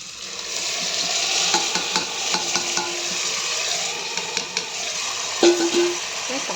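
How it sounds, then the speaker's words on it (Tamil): Tomatoes fry in hot oil with ginger and garlic for tomato rice, a steady close sizzle with scattered clinks and scrapes of a utensil stirring in the pan. "தக்காளி போட்டு நல்லா வதக்கிக்கணும்."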